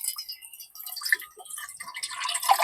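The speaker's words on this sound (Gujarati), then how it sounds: "અને આ નાખ્યું પાણી." Water poured into a cooking pot on a gas stove at an outdoor car-camping spot, a light splashing trickle that builds toward the end, fairly close, with no talking.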